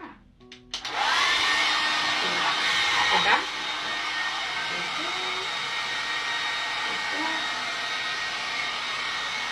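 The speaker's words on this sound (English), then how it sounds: "Let me show you guys how I blow dry" A handheld hair dryer blows hair dry in a steady, loud, close whoosh that runs nearly the whole time after a brief clatter of handling at the start, with a short voice near the beginning.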